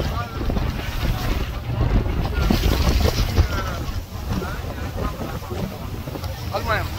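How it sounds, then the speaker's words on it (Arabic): A ferry crossing the sea off Marseille toward the Frioul islands gives a steady engine and water rumble, with strong wind buffeting the microphone throughout and faint voices in the background. "تشوف البابور راه يتحرك"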